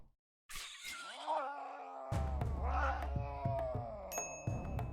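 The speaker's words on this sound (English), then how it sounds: "Why do they all sound like cats being tortured?" Video game creatures let out strained, cat-like yowls and wails, rising and bending in pitch over a steady low game rumble, with sharp percussive clicks and a brief high ringing tone near the end.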